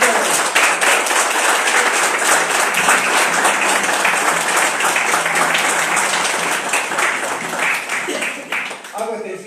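An audience at an event opening with narrative readings gives a strong round of applause for the guests, dense sustained clapping that fills the space and tapers slightly near the end, with voices mixed in.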